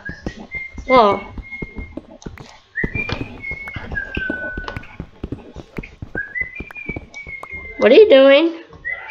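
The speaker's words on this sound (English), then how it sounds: "What is this suspicious whistling you're doing? Why are you whistling especially?" A person whistles short tonal phrases in bursts across the clip, with voices talking loudly over and between them.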